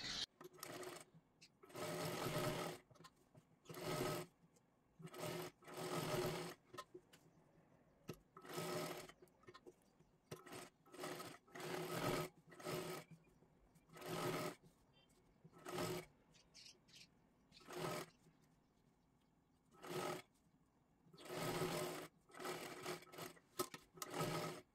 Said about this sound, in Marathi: पूर्ण गळ्याला व्यवस्थित आपल्याला शिलाई मारायची आहे